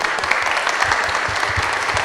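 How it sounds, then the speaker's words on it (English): A brief round of applause from the audience at a desegregation advisory group meeting, close, dense clapping at a constant level. "So can we give her a round of applause?"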